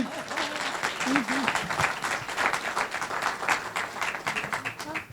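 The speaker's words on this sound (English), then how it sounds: "Give her a round of applause." An audience at an empowerment event applauds a guest with a steady wash of clapping that rises and falls, while voices call out over it.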